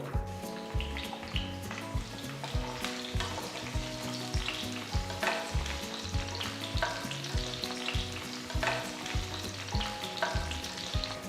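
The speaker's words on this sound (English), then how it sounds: "First I'm going to fry the IV gourd." Halved ivy gourd frying in about three tablespoons of oil in a pan, with a busy, continuous sizzle and crackle under repeated rhythmic stirring and scraping strokes that run throughout.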